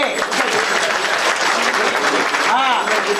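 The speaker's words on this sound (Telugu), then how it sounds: "అందరు గట్టిగా చప్పట్లు కొట్టండి." A temple crowd at a Karthika month Shivaratri puja in Nizamabad claps loudly and steadily throughout, a dense continuous wash of applause with a voice briefly audible over it.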